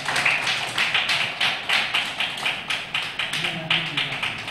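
Audience applause at a Tamil gathering as Pandit Balasubramaniam is honoured with a ceremonial shawl: dense, steady clapping from a crowd that pulses in waves, with faint voices underneath.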